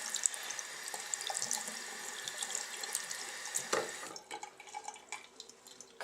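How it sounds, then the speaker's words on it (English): Tap water running steadily over a makeup brush as it is wetted at a sink, a soft continuous hiss and splatter heard close up that thins out and stops near the end. "Okay, getting the brush wet."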